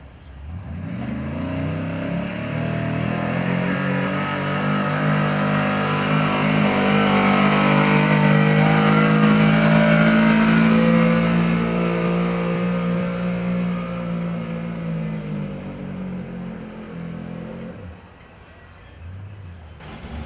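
A 9500 Pro Farm turbo tractor roars at a truck and tractor pull, its engine revving hard and climbing to a sustained loud howl around 3,000 RPM, then easing off near the end, close and dominant throughout.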